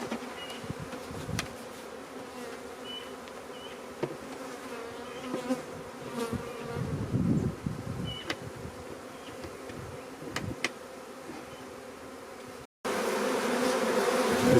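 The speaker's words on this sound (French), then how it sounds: "Les abeilles appellent les autres." A steady buzzing of many honeybees calling at the hive entrance during capture of a bare swarm hums continuously, with occasional louder passes of individual insects close by.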